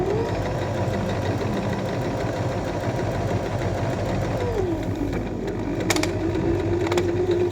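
A sewing machine stitches a seam with a continuous mechanical whir and hum, its pitch dipping briefly as it slows for a reverse stitch, followed by a couple of sharp clicks.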